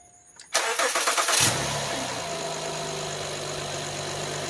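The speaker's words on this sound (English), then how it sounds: "would you want to start the car up" A car engine cranks briefly on a weak battery with very low cranking voltage, catches with a roar, then settles into a steady idle, heard up close.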